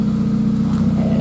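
A 2000 GMC Sonoma with the 2.2 engine and Magnaflow dual exhaust idles or revs in place, producing a steady, loud, low rumbling drone with a pulsing exhaust note and no talking.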